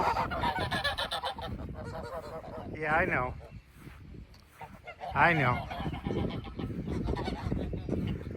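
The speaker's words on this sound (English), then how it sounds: "What do you want, nosy gooses? Noisy gooses?" Geese honk loudly nearby in a few repeated calls, mixed with a person talking over them.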